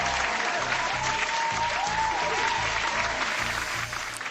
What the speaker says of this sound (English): Round of applause for the shout outs.